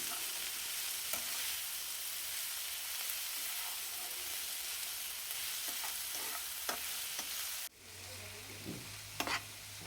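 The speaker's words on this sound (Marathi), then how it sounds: "आपण कापलेले कांदे थोडे टाकून फ्राय करायचे" Chopped onions fry in a pan for spring onion besan bhaji, a continuous crackling sizzle with occasional spoon taps and scrapes; near the end the hiss suddenly drops lower and a few more clinks follow.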